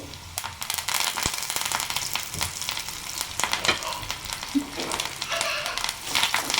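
Mustard seeds and curry leaves sizzling and popping in hot oil for a sambar, a dense close crackle with scattered sharp pops throughout and no voices.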